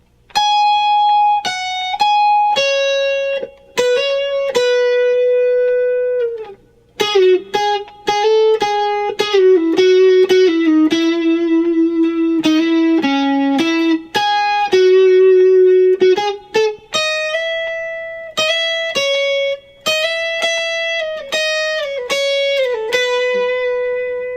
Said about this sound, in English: Next is Louis' guitar solo, and it'll sound something like this.